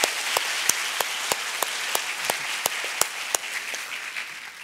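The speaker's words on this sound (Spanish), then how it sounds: "Un aplauso, por favor, para nuestros 2 invitados." A university conference audience applauding its guests: dense, steady clapping from a crowd in a hall, even and sustained, with a few sharper individual claps standing out.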